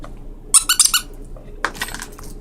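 A squeaker inside a knitted dog toy gives a few quick, sharp squeaks in a cluster, then another squeeze a moment later, close and loud with no talk.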